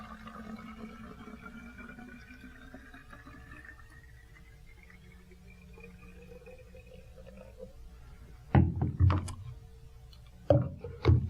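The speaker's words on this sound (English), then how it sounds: "open up the spray bottle, pour it directly in." Liquid pours into a new spray bottle with a soft trickle whose pitch slowly climbs as the bottle fills, followed by a few louder plastic clunks and knocks as the bottle is handled near the end.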